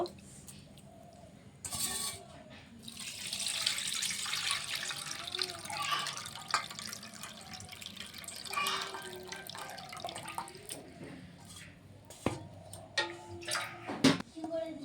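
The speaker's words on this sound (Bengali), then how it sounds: "চিড়েটা ধুয়ে নিচ্ছি দুবার তিনবার ধুব" Flattened rice (chira) is rinsed in water for poha, with sloshing, splashing and dripping that run on and off across the span, and a voice speaks over parts of it.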